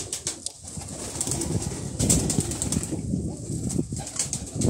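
Kagzi pigeons, a short-beaked, spotless, black-eyed old breed, coo softly at close range with wing flutters and rustling over a steady noisy loft background, no talk.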